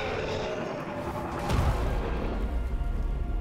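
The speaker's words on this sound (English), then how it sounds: "So those explosions, by the way, will one-shot you." Explosions in the video game Lords of the Fallen: a steady rumbling backdrop swells into a heavy, low boom around the middle, then a sustained loud roar with no speech.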